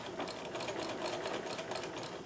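Singer 237 sewing machine stitching at a reduced speed, a steady rapid whirring clatter with a fast even needle rhythm, close and continuous without talk.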